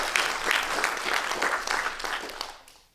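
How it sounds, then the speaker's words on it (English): An audience at a talk applauds itself, many hands clapping in a steady rush that gradually fades out toward the end. "Just give yourselves a round of applause."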